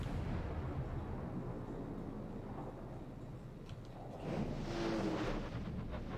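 A video game artillery volley sounds as a broad, rumbling wash of distant booms and blasts that swells toward the end, continuous and muffled rather than sharp.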